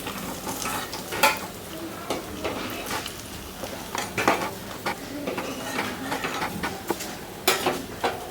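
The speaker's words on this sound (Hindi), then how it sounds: "ये देखिए मछली फ्राई हो गया है।" Fish fries in a pan with an ongoing sizzle, broken by repeated scraping and clinking as a utensil stirs and turns the pieces, moderately close and with no talking.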